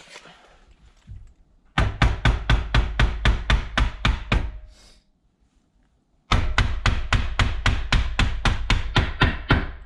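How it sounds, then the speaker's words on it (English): A loft hatch being tapped into its frame during a home renovation, two long runs of quick, heavy, evenly spaced knocks with a pause between them, loud and close, no talk. "Give it a tap."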